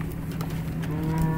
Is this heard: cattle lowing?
yes